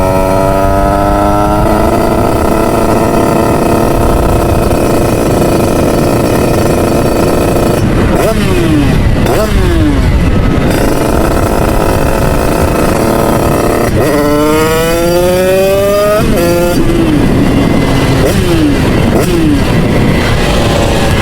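Motorcycles on a ride out with friends, engines revving hard with rising and falling gear-shift sweeps, loud and close throughout, several bikes accelerating in bursts.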